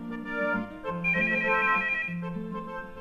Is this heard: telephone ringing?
yes